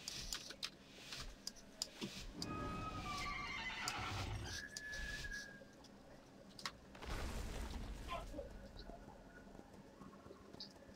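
A horse in the World of Warcraft video game neighs and whinnies loudly, mixed with hoof clip-clop, clicks and other game sounds, with faint keyboard tapping nearby.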